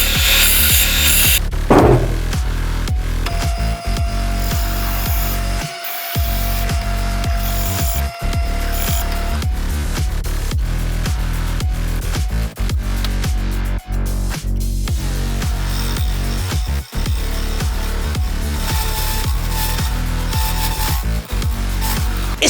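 Steady woodworking noise from a lathe, loud and continuous, with a grinding, scraping cut of a tool against spinning wood and a few brief dips.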